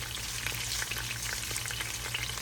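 Fresh garlic and vegetables frying in a pan, a steady close crackling sizzle with dense popping throughout and a low hum underneath, no voices.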